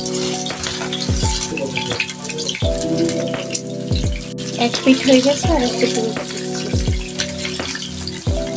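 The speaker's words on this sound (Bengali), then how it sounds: "ফ্রাই প্যানে আগে থেকে তেল গরম করে রেখেছি" Chicken pieces frying in hot oil in a frying pan, a steady bubbling sizzle running throughout with occasional low knocks and clatter, while someone talks over it.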